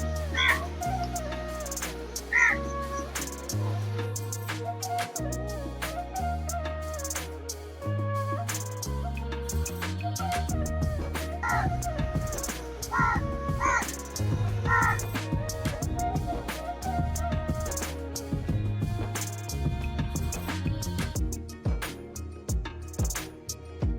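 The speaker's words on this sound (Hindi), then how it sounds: "और देखिए जी 2 बिल्लियां हैं।" Two cats meow repeatedly at a home, their cries rising over steady background music through a long stretch.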